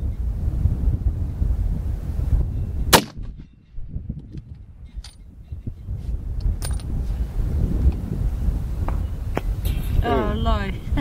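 A single sharp 300 WSM rifle shot fired at a very long-range target, a loud crack near the start that cuts through heavy wind noise buffeting the microphone, followed by faint voices.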